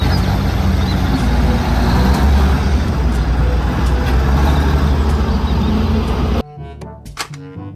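A sand truck's engine drones heavily and steadily at close range, a dense low roar that ends abruptly near the close, giving way to brief scattered tones.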